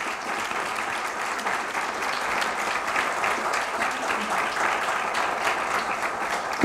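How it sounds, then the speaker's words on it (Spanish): Steady, dense audience applause fills a lecture hall for the team that organized a talk series on seeds, maize, flowers and health in Mexico, sustained and even throughout with no pause. "Yo les pido un aplauso para el grupo que ha organizado."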